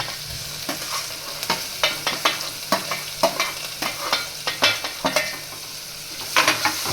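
Hing, green garlic and green onion fry in hot oil for dal dhokli, a steady sizzle broken by repeated spoon scrapes and taps against the pan at an irregular rhythm, close and clear with no talk.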